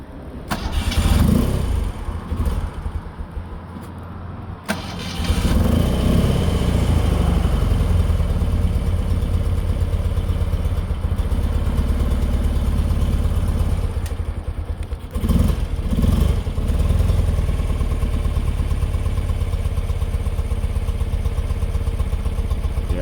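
A 1974 BMW R60/6 motorcycle with no choke fires up from cold, its boxer engine catching after a short crank and settling into a loud, steady, slightly uneven idle that runs on close by.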